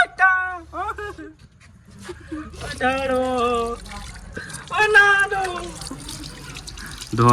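Hands are washed under a running tap, with water splashing steadily into the sink beneath close voices talking over it.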